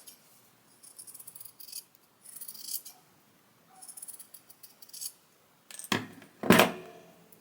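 Scissors snip gradually through fabric in short bursts of crisp cutting sounds, close and quiet, followed near the end by two sharper clattering knocks as the tool is handled or set down.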